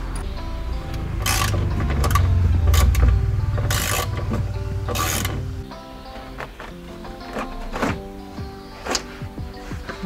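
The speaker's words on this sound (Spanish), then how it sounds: "aquí tenemos un tornillo Torx que también hay que quitar" Torx screw being unscrewed from an interior pillar of a BMW E46 323Ci coupe, heard as close mechanical ratcheting clicks and scraping tool sounds over a low hum, with a few sharp bursts.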